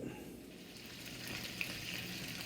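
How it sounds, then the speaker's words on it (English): Drunken noodles with chickpeas being stir-fried, a soft steady sizzle with faint stirring scrapes, fairly quiet, no talking. "we're going to add them to the stir fry just like that. And then we're going to stir them on up."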